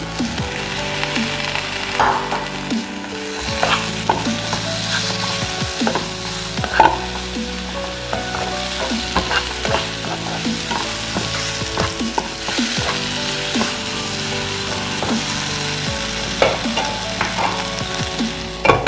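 Tomatoes sautéed in oil in a pan for an okra curry, with a steady close sizzle and repeated scraping and clinking strokes of a spoon as it is stirred throughout.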